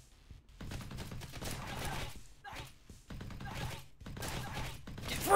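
Gunfire in the FuryDough bakery shooter demo: clusters of rapid shots in bursts separated by brief pauses, fairly close and moderately loud, with a final sharp burst at the end.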